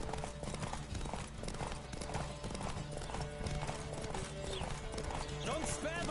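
Hooves beat in a fast, steady rhythm as a horse gallops in The Witcher video game, running continuously at low level beneath game sounds, with a voice speaking over it and a whinny rising near the end.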